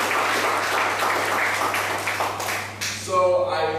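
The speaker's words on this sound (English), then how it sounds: "Let's clap it up for Prasanna" Audience applause for a speaker named Prasanna at a professional development session on communication, a steady wash of clapping across the room that fades near the end as a voice begins to come through.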